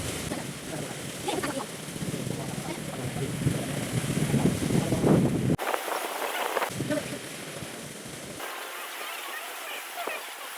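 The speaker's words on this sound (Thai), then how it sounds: "วันนี้ลมแรงมากเลย" Strong wind buffets the microphone in heavy, roaring gusts that rise and abruptly drop away, with a low rumble beneath, beside a rural road railway crossing.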